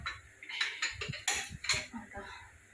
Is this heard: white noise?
no